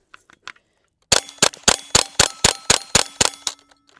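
A German-made AK-47 style rifle chambered in .22LR fires about nine sharp, close cracks at a quick, slightly uneven rhythm, each with a short metallic ring, preceded by a few faint clicks.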